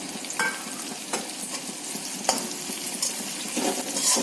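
Green chillies for a fish curry fry in a pan, a steady broad sizzle with occasional stirring clicks and scrapes, close and continuous with no voices.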